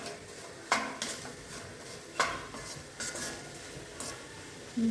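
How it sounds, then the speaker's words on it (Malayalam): Vegetables being stirred and sautéed with salt in a pan while cooking a special pulinkari, heard as a few sharp spoon-against-pan clinks and scrapes over a faint sizzle, close and moderately quiet. "ഇപ്പോൾ തൽക്കാലം ഉപ്പിട്ട് ചെറുങ്ങനെ ഒന്ന് വഴറ്റി കൊടുക്കാം."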